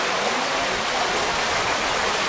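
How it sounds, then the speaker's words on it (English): Heavy rain pours steadily on a street in Dhaka where rickshaws ride through the downpour, a dense, loud, unbroken hiss with no gaps and no voices. "It's amazing, these rickshaw drivers riding through the rain"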